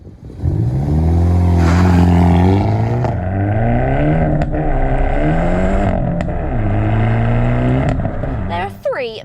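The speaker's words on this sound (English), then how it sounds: "Under the bonnet is a 2-litre 4-cylinder turbocharged petrol, which they call the TGI" A 2021 Hyundai i30N with a 2-litre four-cylinder turbocharged petrol engine revs and pulls through several gears, its rising and falling engine note loud and close. A voice speaks over it.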